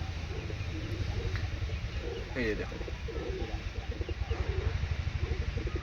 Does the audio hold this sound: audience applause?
no